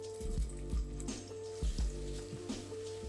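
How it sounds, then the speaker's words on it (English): Hot frying oil bubbles and sizzles steadily around a wooden chopstick dipped in to test the temperature before frying shallots, with a few louder popping bursts over a constant crackle. "Put a chopstick in. It starts to bubble just like that."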